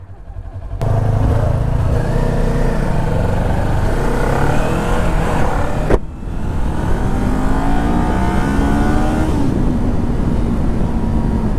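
A 2019 Kawasaki Ninja 400 parallel-twin engine with stock exhaust revs hard and climbs through gears, loud and close, with a brief drop around the middle before winding up again.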